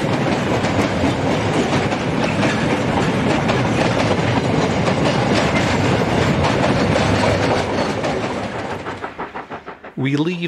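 A South African steam-hauled mixed train rumbles past loudly between Bethlehem and Bloemfontein with a steady clickety-clack of wheels on rails, continuous until it fades toward the end.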